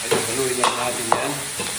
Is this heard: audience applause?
no